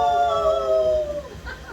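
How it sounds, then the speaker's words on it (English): A dog or wolf howls on a full-moon night, one long sustained wailing note that slowly falls in pitch and fades, with a short rising yelp at the end. "There's howling already, damn it."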